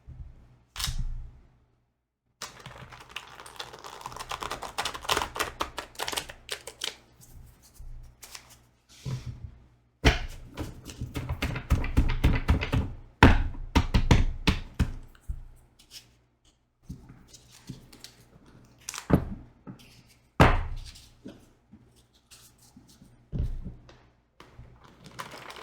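A deck of oracle cards being shuffled in bursts of crisp riffling and slapping, close by, with short pauses between rounds and no talking.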